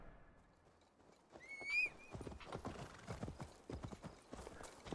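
Horse hooves in Assassin's Creed Valhalla clip-clop at a steady walking rhythm, close and clear, with a brief high whinny-like cry early on and soft ambient noise beneath.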